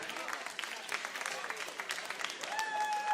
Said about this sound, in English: Let's give a round of applause to Odium for his first tournament out here